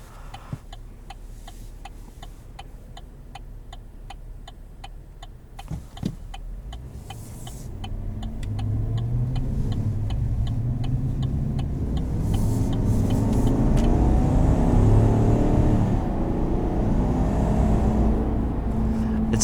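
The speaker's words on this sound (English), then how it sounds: "You can hear all the induction noise, which is crazy." Cabin of a 2020 Chevrolet Silverado 1500 Z71 pickup under way, a steady ticking at first, then the engine and intake roar swelling louder as the truck accelerates, with no talking.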